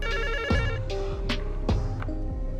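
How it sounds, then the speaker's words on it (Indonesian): A telephone rings in bursts against a steady background, the tones close and fairly loud, with no one speaking. "Kemudian tiba-tiba telepon berdering."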